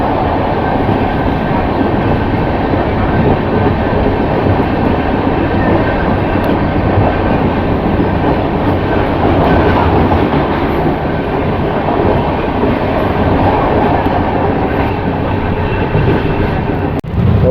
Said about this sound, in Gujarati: આ સૌરાષ્ટ્ર મેલ અહીંથી ક્રોસ થઈ રહી છે નવા ડબલ ટ્રેક ઉપર